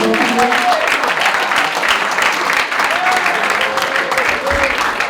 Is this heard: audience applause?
yes